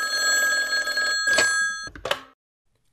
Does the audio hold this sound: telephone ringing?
yes